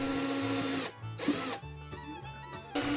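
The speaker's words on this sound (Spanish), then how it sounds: "Utilizaré una broca escalonada para realizar el agujero por donde pasaré el cable." A handheld drill with a step bit bores a hole through a plastic paint bucket, its motor whining in several short bursts separated by brief pauses, close and fairly loud.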